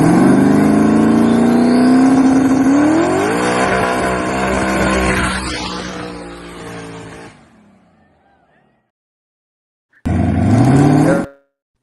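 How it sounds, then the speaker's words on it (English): At a gender reveal, a car does a burnout, its engine revving loudly and rising in pitch with squealing tires. The noise fades out, then a second short, loud burst follows. "a video of the gender reveal burnout"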